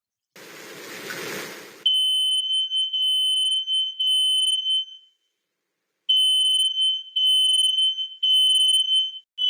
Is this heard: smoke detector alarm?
yes